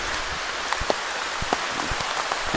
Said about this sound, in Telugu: విపరీతమైన వర్షం అయితే స్టార్ట్ అయిపోయింది